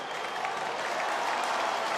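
Warrington rugby league crowd applauds a player returning to the club in a Super League match against Catalans, a steady broadband wash of clapping lasting the whole stretch without a break, fairly distant and even in level.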